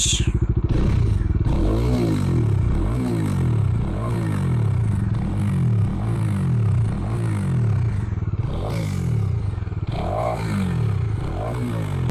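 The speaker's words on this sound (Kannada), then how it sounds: "ಹಾಗೆ ಎಕ್ಸಾಸ್ಟ್ ಚೆಕ್ ಮಾಡುವ." A Bajaj Dominar 250 motorcycle's exhaust rumbles nearby, with repeated blips of throttle rising and falling in a steady rhythm across the whole stretch, fairly loud and alone.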